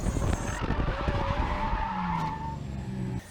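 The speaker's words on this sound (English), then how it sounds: "while following another driver who probably I gave a little bit too much credit in their ability, spun out right in front of me and I managed to collect" Race car on a track spinning out ahead, with loud tire skidding and squealing under engine noise, a sustained screech fading out as the spin ends.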